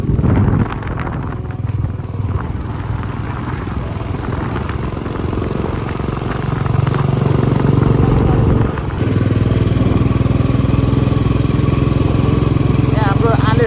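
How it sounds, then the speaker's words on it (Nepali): Motorcycle ridden uphill on a village road in Nepal, its engine droning steadily close up and building louder partway through, with wind rush and a voice talking briefly over it. "म चाहिँ बाइक चलाउँदैछु।"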